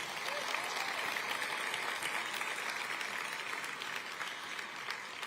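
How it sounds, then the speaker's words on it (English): Steady audience applause at a city's state of the city address fills the space, dense clapping heard at moderate distance and continuing evenly throughout. "Please give Isabel another round of applause"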